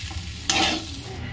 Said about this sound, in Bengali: চাল টাল সব দিয়ে দিয়েছি, হালকা হালকা ভাজা হয়ে গেছে